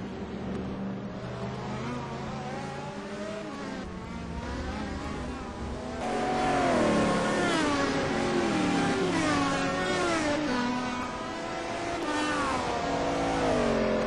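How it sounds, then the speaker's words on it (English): Race cars in the 2008 ETC Black Cup at Donington Park howl past in a close pack of five or six, engines revving and shifting through gears, loud and continuous with overlapping whines. "This is a real car chase. There is a group of, I think, 5 or 6 cars in there, Andreas."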